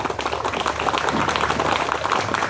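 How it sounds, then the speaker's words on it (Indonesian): Clapping from an audience at an Islamic boarding school gathering in Silatong, a dense, steady patter of many hands filling the short stretch, moderately loud and close, with a hint of voices mixed in. "Tepuk tangan kepada Reza"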